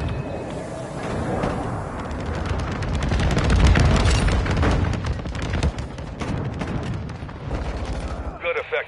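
Bombing run explosions in Call of Duty MW2 on PS5, with a rolling series of heavy booms and crackling blasts that build to a loud peak midway and then break into scattered sharp bursts, under radio chatter.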